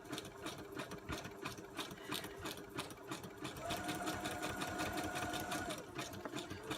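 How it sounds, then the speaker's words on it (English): A sewing machine stitches through paper, running steadily, its rapid needle clatter pulsing evenly, then speeding up with a faint whine in the second half. "Try not to go too fast on my sewing machine so it doesn't shake my camera too much."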